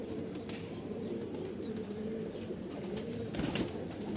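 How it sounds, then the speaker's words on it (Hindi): A female Malwai Punjabi pigeon coos softly in low repeated murmurs beneath a constant background hum, close by, with faint rustling around it. "देखो क्या कबूतरी है, प्योर मलबई पंजाबी है।"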